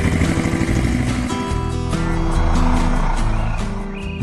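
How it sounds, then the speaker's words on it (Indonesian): An engine drones from an orange trenching machine digging soil in a 3D construction animation, a loud continuous rumble with shifting pitch and no talk. "Traktor itu mulai menggali tanah dengan sangat fokus."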